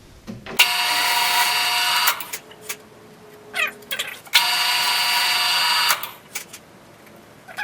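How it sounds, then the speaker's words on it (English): A drill press bores a hole with a 3/8 inch bit for a bushing, whirring in two sustained bursts of about one and a half seconds each, separated by brief clunks and pauses, fairly close and alone. "I put the 3/8 inch drill bit into the press, and I'm going to drill the inner hole for the bushing."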